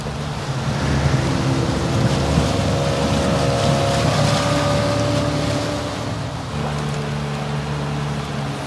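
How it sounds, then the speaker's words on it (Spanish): Motorboat speeding across water in Call of Duty: Modern Warfare II, a loud, steady engine drone over rushing water and wind, easing slightly near the end. "Esa es su lancha."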